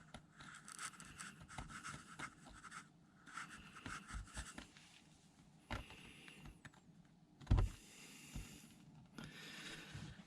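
A pen traces around a shape laid on a surface while marking out a cobbled road patch. Soft, scratchy scribbling comes in bursts, with one sharp knock partway through and no talking.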